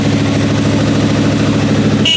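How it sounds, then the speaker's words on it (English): Suzuki GSX-R motorcycle engine from a barn find revival running steadily with slight throttle, a loud close continuous rumbling drone with an even pulsing rhythm. "So I've just got the throttle slightly on. I'm just letting it all cycle round a bit."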